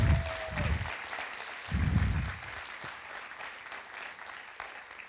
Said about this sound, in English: Should we give them another round of applause